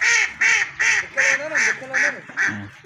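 Ducks quack close by at a zoo in Multan, in a steady series of about seven loud, nasal calls, evenly spaced with short gaps between them.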